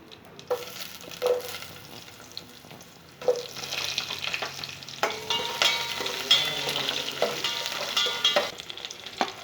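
Sliced onions sizzle in a hot tempering with chillies and curry leaves for a pappu charu, with steady frying hiss and intermittent stirring scrapes from a spoon in the pan, close up with no talking.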